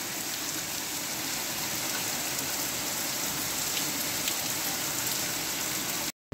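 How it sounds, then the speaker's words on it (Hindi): Steady, dense rainfall at night patters continuously on surfaces nearby, a constant hiss with no voices, cutting off abruptly at the end. "आपको आवाज़ आ रही है आवाज़ देखे कितनी मज़े की है बारिश की"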